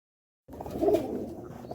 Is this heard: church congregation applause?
no